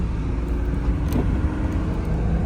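Car accelerating on a road test drive after brake work, steady low engine and road rumble heard from inside the cabin, no talk.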